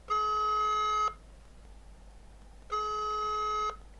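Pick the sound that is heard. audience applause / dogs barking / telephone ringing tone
telephone ringing tone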